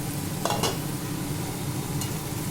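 Red amaranth greens (lal shak) frying in a pan make a continuous sizzle, broken by a couple of brief scraping stirs near the start and one more near the end, with no one talking.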